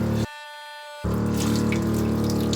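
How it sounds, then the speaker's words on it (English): Water runs from a sailboat's tank tap into the galley sink late in the New England sailing season: a steady close gush with a hum beneath it, briefly interrupted, then resuming just as strongly. "So I'm trying to run the water out."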